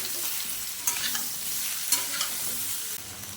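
Drumstick stems and potatoes frying lightly in a pan, a steady soft sizzle with occasional stirring scrapes, close and alone without talk.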